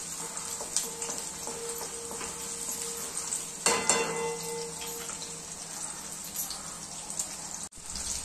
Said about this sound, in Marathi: याला मिक्स करून लाल होईपर्यंत फ्राय करून घेऊया